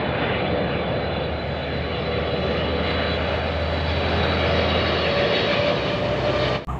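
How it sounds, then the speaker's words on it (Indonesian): Toy airplane putting out a loud, steady aircraft engine drone that holds evenly for several seconds and then stops abruptly. "Wow, ini ada pesawat terbang."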